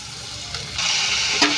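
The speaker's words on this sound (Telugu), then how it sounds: "ఉల్లిపాయలు అయితే ఫ్రై అవుతున్నాయండి ఫ్రై చేసుకుంటున్నాము బాగా అయితే ఫ్రై కావాలి" Onions and green chillies fry in hot oil with a loud, steady sizzle, while a spoon stirs and scrapes through the pan up close.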